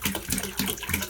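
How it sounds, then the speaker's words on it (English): Water runs lightly from a kitchen sink tap into a basin, a brief soft splashing and trickling with gentle uneven pulses. "I fill one side up halfway full, and then run the water lightly"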